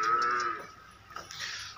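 A buffalo for sale in Pakistan gives one short, close moo in the first half-second, then falls silent under low background noise.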